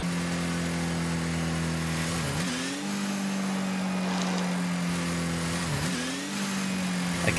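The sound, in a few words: Octane car engine reversed, Rocket League video game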